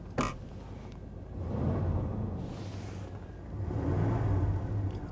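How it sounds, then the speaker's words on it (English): A 1994 Chevrolet Suburban 1500 engine idles steadily just after starting, with a low continuous rumble that swells twice as the revs rise briefly, close by. "we just started the 94 Suburban up"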